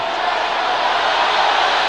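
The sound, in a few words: cricket crowd reacting to a run-out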